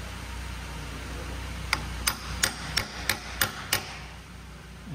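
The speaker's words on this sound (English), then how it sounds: "the last step of this process is just to stake this nut over" A really blunt chisel is struck with a hammer to stake a nut while fitting a reverse drive kit to a Subaru: seven sharp, evenly spaced metallic blows close by, with a steady low hum underneath.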